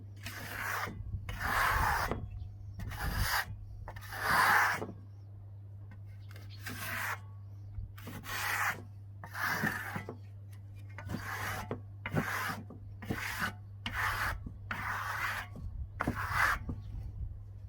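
Steel trowel burnishing smooth tadelakt lime plaster on a wall: a series of about a dozen rhythmic rasping strokes, each lasting under a second with short pauses between, close and fairly quiet, over a steady low hum.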